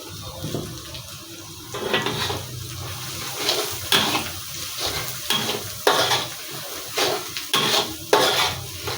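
Oil sizzles steadily under repeated scraping strokes as silver carp fish curry with potato and chopped green chilies is stirred and fried in a pan, the rhythmic stirring clear and close.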